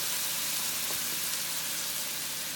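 Chopped chives cooking down in a hot pan for a vegan pasta dish give off a steady, even sizzle with a soft hiss that holds at the same level throughout.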